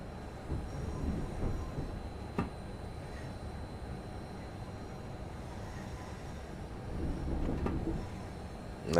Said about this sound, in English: the underground trains? Because that is the non plus ultra of noisy and rattling trains